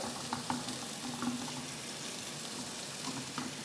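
Onions and red chilies fry in a very hot pan, giving a steady, close sizzle with soft crackles and faint stirring, no voices over it.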